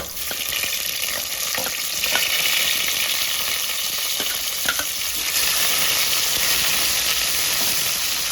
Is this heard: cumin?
yes